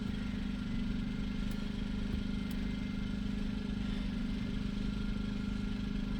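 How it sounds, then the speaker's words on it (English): Portable generator running under EV charging load, a steady mid-pitched engine drone with a constant low hum, moderately close and unbroken, with no talk. "There's the generator."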